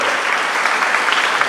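An audience at an anti-apartheid benefit concert gives a dense, continuous round of applause for the performers, close and steady throughout.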